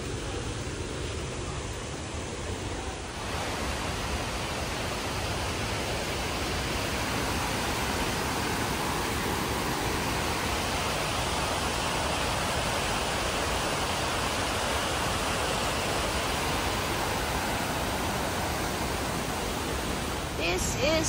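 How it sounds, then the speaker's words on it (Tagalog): A waterfall at Lake Sebu, South Cotabato, pours with a constant broadband roar, steady and enveloping, heard up close with no break and a brief shift in level near the start. "This is the falls too. Really nice and beautiful."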